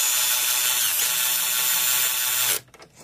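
Steady, dense metallic whirring of a tool snugging down belt tensioner bolts on a Chevy Cruze 1.4L engine, loud and close for most of the clip before cutting off abruptly near the end.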